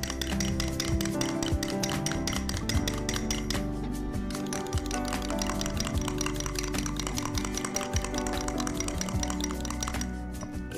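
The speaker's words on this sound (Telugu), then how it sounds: "మళ్ళీ విస్క్ చేసుకోవాలి." A whisk clinks steadily against a bowl as milk is beaten into a mixture, with rapid, even metallic taps running continuously and close.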